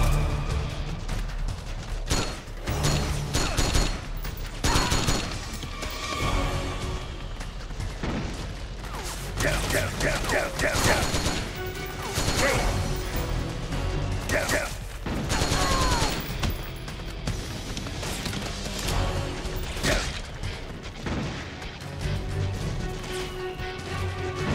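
Gunfire in Metal Gear Solid 4 bursts out in repeated volleys and sharp cracks amid battlefield clatter and explosions, mid-distance and sustained, with voices speaking at moments.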